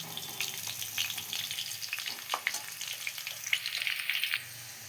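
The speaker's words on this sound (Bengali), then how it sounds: "আলুগুলোকে ভালো করে লাল লাল করে নেড়ে নেব আলুগুলোকে পুরো লাল লাল করে ভেজে নেব" Potatoes fry in oil in a pan before a chicken kosha, giving a close, steady crackling sizzle with scraping stirs and small spattering bursts. The level is moderate and no one speaks.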